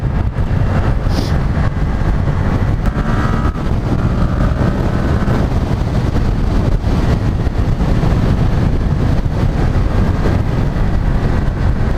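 A Yamaha XSR700 motorcycle rides through traffic in the rain, a constant loud engine drone mixed with heavy wind rush that stays steady throughout.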